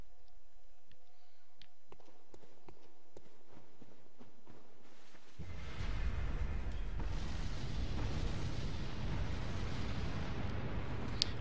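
A cannon firing lava rock projectiles in the video game Bloodborne: after a quiet stretch of faint ticks and taps, a sudden loud blast breaks into a sustained, rumbling, roaring barrage that fills the rest of the clip.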